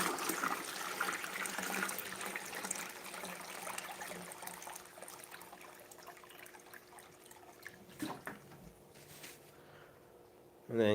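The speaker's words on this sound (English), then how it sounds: "Just gonna finish it up with the rest of the fresh water." Fresh water trickling and pouring into a mix for a rose anemone, a continuous soft liquid stream that thins toward the end, close up with no clear speech.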